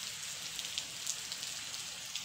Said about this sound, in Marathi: बघा, असा पाऊस आहे